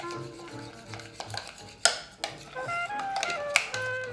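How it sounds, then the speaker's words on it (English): Spoon stirring a mixture with minced garlic in a bowl, giving soft scraping swishes punctuated by a few sharp clinks and taps against the dish, close and fairly quiet. "Another stir to evenly distribute everything."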